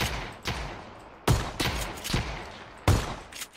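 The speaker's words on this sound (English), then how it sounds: "I have hit this guy 3 times with a shotgun." Loud, heavy shotgun blasts in a video game, fired singly at irregular intervals with several sharp booming reports and short echoing tails, and no talking over them.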